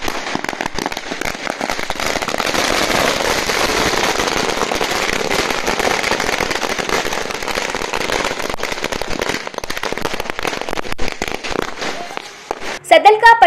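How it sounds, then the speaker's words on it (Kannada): Firecrackers burst continuously at a Congress party candidate's election victory celebration in Sadalaga town, a dense, loud crackling barrage that runs almost the whole time and ends in a few sharper, louder pops. "ಸದಲಗ ಪಟ್ಟಣದಲ್ಲಿ ಕಾಂಗ್ರೆಸ್ ಪಕ್ಷದ ಅಭ್ಯರ್ಥಿ ಗೆಲುವನ್ನು ಪಟಾಕಿ ಹಚ್ಚುವುದರ ಮುಖಾಂತರ ಸಂಭ್ರಮಿಸಿದರು."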